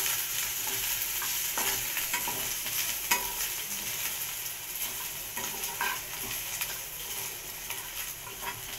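Chopped ginger and garlic frying gently over a low gas flame, a soft continuous sizzle with scattered stirring scrapes, close and unaccompanied.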